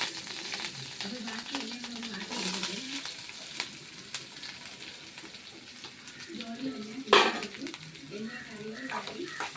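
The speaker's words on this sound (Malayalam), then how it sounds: "നന്നായിട്ട് ഇതൊന്ന് ഇളക്കി കൊടുക്കും" Vegetable thoran is stirred in a hot pan on the stove, a soft sizzle running under intermittent spatula scrapes, with one sharp metallic clank and a voice now and then.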